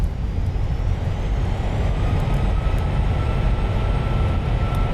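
Thrust reversers roar on an Airbus A320 landing in Microsoft Flight Simulator, a loud, steady, broadband rumble that holds evenly from start to finish with no voices.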